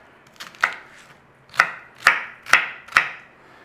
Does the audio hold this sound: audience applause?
no